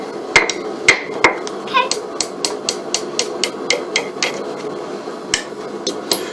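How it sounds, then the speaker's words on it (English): A blacksmith lightly taps a steel hook on an anvil, producing a close series of sharp metallic rings that come in an uneven rhythm of bright clinks, some louder than others, with no speech. "we want to flip it over on the anvil head and lightly tap it into the shape"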